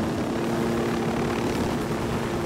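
A helicopter in the video game Narco Road DLC roars steadily and loudly, a dense continuous rotor and engine drone filling the whole clip with no voices.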